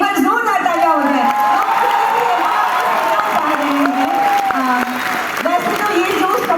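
A festival crowd at the Dumka Literature Festival applauds to welcome actor Pankaj Tripathi, steady loud clapping mixed with cheering and whoops, with voices calling out over it throughout.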